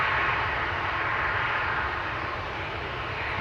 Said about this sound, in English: That's KLM flight 8591 to Johannesburg in South. This is a 737.